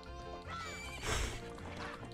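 A horse in the video game The Legend of Zelda: Majora's Mask lets out a short, loud whinny, its high wavering call rising over light game background sound.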